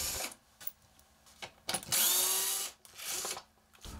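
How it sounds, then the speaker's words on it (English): A screw gun fitted with a number two square bit backs screws out of an RV roof vent garnish, giving short whirring bursts separated by pauses, close and fairly loud. "use the screw gun with the number two square bit and remove the four screws in the vent garnish"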